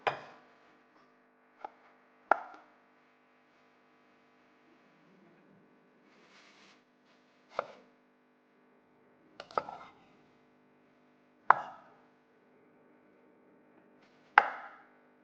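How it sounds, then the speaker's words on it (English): A knife chops a head of broccoli into small bite-sized florets on a board, with sharp isolated cuts landing at irregular intervals amid quiet pauses, close and clear with no talking. "Take one medium head and cut it into small, bite-sized florets."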